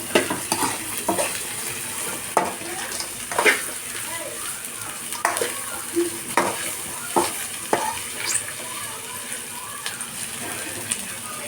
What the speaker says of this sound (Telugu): కొంచెం వేయించి నెక్స్ట్ పచ్చిమిర్చి వేసుకున్నామండి